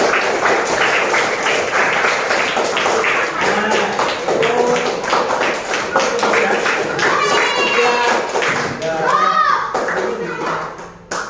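Children in a classroom give a classmate a round of applause: steady, dense hand clapping that holds for several seconds, with young voices calling out over it near the end.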